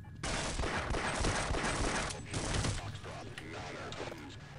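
Pistol gunfire in Half-Life, a dense run of rapid shots packed together and fairly close, with a voice talking over part of it.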